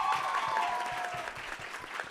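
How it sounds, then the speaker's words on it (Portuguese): An audience in a studio arena setting gives a short round of applause, a steady patter of many hands clapping fairly close, fading slightly toward the end. "Salve de palmas para o Renato Rainha"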